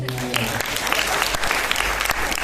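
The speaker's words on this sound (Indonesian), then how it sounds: "Tepuk tangan ya teman-teman." Audience at an insurance business talk applauds briefly in a dense wash of clapping, with a little speech audible at the start.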